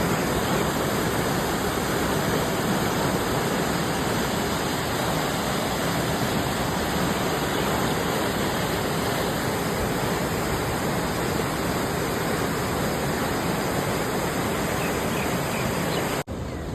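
Flooded Ganga river near the Gaur area, a steady, broad roar of rushing water that stays loud and unbroken throughout, with no talk over it.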